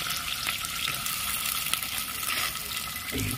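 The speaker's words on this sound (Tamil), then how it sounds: "பார்த்து எண்ணெய் நல்லா சூடாக இருக்கு. அதில் இந்த மாங்காயை வந்து நம்ம இப்போ உள்ளே போட்டுடலாம்." Raw mango pieces for pickle fry in hot oil with a dense, steady sizzle and some stirring, ending with a low thud.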